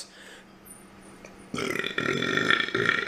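A man gives a drawn-out, close burp that rises in loudness and breaks into a few surging pulses over about a second and a half, after a quiet lead-in.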